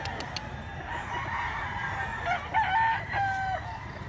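A 3.5-year-old rooster crows once, a clear drawn-out call ringing out over quiet farmyard background noise, not far away.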